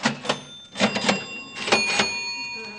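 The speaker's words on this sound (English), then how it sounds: "Those sound like cash registers ringing to me." Old-fashioned cash registers ring in a rapid cluster, their bells chiming and drawers clanking in bursts with brief gaps, fairly loud and close with no voices.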